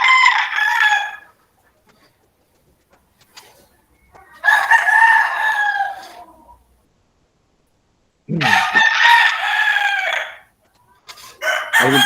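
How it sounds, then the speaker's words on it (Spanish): Roosters crow in three long, loud calls with quiet gaps between them, plus a short start of another at the end, coming through an open microphone with no talk over them. "Alguien tiene abierto el micrófono de los gallos."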